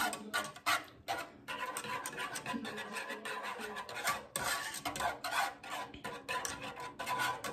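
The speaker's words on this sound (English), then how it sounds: "Gonna give that a stir." Buffalo wing sauce with a squeeze of lime juice being stirred in a pot over medium heat, with repeated scraping and rubbing strokes of a utensil against the pot, close and fairly quiet, with no talking.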